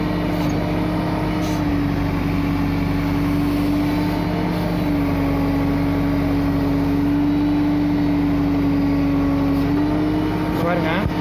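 An Escort Digmax backhoe engine drones steadily with a sustained low hum while digging full loads of soil, its RPM sagging under the load, with a few faint knocks over the continuous engine noise.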